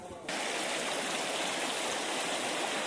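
A mountain stream flowing beside a hill-country spring market gives a loud, steady rush of water close by. It runs without a break through the whole stretch.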